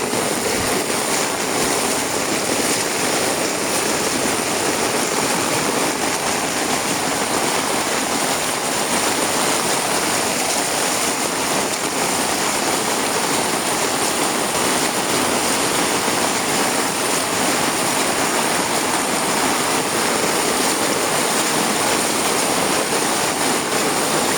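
A dense, constant roar of heavy monsoon rain at Chaukul, India, mixed with rushing running water flooding a road, loud and unbroken throughout.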